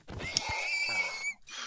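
A horse whinnies in the video game Minecraft, a drawn-out, wavering call that rises and holds for about a second, close and fairly loud, with brief low game sounds around it.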